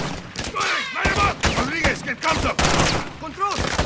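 Heavy gunfire in Call of Duty Modern Warfare 2 during a cartel protection mission, with repeated loud, close bursts of rapid shots mixed with shouted voices.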